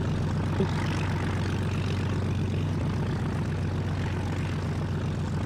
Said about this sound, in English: I am struggling to hear you, old chap, because of your engine sound.